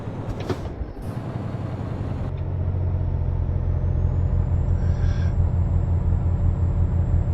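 Truck engine in Euro Truck Simulator 2 over-revving, a loud steady drone that rises and holds at high pitch after a brief air-brake hiss, continuing alone without talk.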